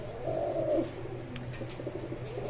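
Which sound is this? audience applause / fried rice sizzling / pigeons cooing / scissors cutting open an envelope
pigeons cooing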